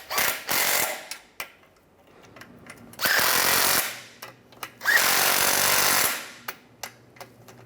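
A power tool, likely an impact gun, tightening the nuts on the front catalytic converter of a 2011-2015 Chevrolet Cruze, three loud close bursts of about a second each separated by pauses filled with small mechanical clicks and clatter.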